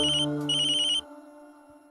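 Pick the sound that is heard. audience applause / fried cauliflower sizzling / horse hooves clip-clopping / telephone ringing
telephone ringing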